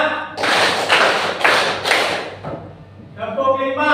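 Junior high students in a classroom clap together in an ice-breaking game, a burst of about four loud, broadband group claps in quick succession, with a teacher's voice following.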